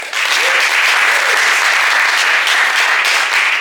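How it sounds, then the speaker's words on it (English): Loud, dense applause from an Improverts improv comedy audience voting for the unionists in a staged debate, steady and unbroken throughout. "And by round of applause, the unionists."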